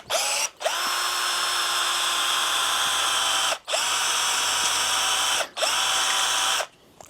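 A DCA ADJZ1202 12V cordless drill runs in three bursts separated by short pauses, each a loud high-pitched motor whine with a falling pitch sweep at the start, close and without speech.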